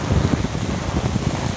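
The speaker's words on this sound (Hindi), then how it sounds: "बहुत ज़ोर से बारिश हो रही है" Heavy rain pours outdoors in a steady, loud wash with low rumbling bursts, continuous and close throughout the short stretch, with no voices.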